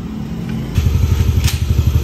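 A modified Yamaha Aerox 183 scooter engine idling close by, a rough, pulsing low putter that steadies into an even, rhythmic thump after a brief quieter start.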